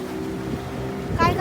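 A motorboat rocks on the sea off Malvan, Maharashtra, its engine holding a steady low hum until a brief surge of water sloshes against the hull near the end.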